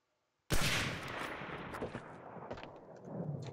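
Gunfire in the World War II shooter Medal of Honor: Allied Assault during a competitive match, a sudden loud burst after silence followed by several sharper shots and rolling echoes.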